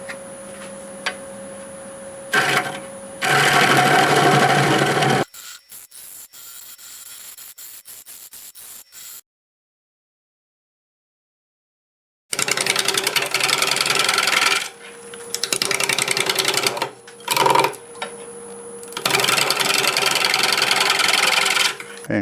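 An ash bowl spins on a wood lathe at 1200 RPM. Bursts of loud scraping cut with a steady motor hum behind them alternate with quieter pauses and one brief silence, and the cutting returns in repeated passes.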